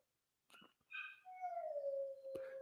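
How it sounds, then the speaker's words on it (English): Dogs, including a Great Dane, whimper and whine in a long, drawn-out falling cry that follows a few short yips, heard close and alone. "Y'all hear my dogs?"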